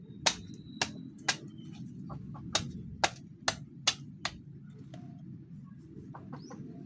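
Outdoors near a chicken, a series of sharp, separate knocks or clucks spaced irregularly over a low rustling background, a few louder ones, with faint bird chirps toward the end.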